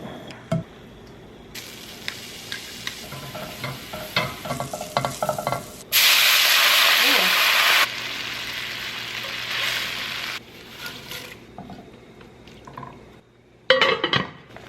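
Food sizzles and fries in a new pan while being stirred, with scraping utensil sounds, a loud burst of hissing when ingredients hit the hot surface, then softer sizzling and clinks.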